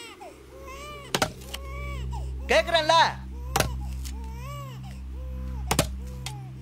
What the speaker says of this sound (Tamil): ஏண்டி குழந்தை அழுவுது?